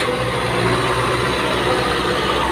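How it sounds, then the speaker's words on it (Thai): A tractor engine runs steadily at a muddy digging site, a low continuous rumble close by with no break for the whole stretch. "รถไถมาแล้วนะจะไม่มีปัญหาครับ"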